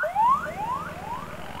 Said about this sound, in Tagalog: Tabi nga muna ako at may ambulansya.